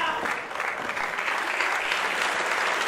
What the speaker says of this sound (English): And the applause for both these men.